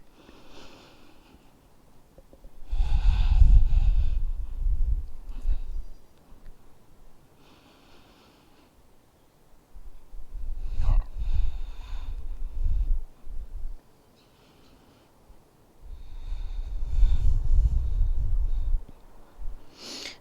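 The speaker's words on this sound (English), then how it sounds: "3 deep breaths" Three slow, deep breaths, each a long inhale and exhale through the nose, are taken while resting in child's pose during a yoga session. They are close and fairly loud, with quiet pauses between them.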